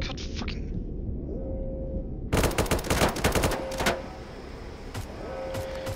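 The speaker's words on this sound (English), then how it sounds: "Where am I getting shot at from?" Gunfire in the Roblox game Blackhawk Rescue Mission 5: a burst of rapid automatic shots and cracks erupts midway, loud and close, over a steady background of game ambience and machinery hum, with a couple of later single shots.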